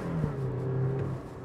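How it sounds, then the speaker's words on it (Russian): A Toyota Land Cruiser Prado engine revs hard under full throttle on a Moscow road, a steady droning rise of engine tone held close and loud for about a second and a half, with no talking. "просто я прям газ в пол нажимаю"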